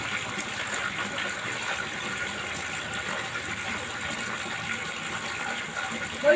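Water runs steadily from a tap to fill a container, a constant rushing flow at moderate level with a brief bump near the end.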